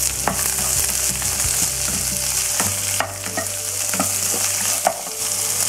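Onion, garlic, pepper and cumin sizzle in hot oil in a pan while a spoon stirs and scrapes, giving a steady frying hiss with irregular close knocks and scrapes.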